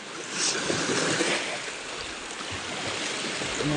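Sea waves wash in steadily at a rising tide near the Ratneshwar Mahadev shoreline shrine, a continuous broad surf roar with no pauses and no talk.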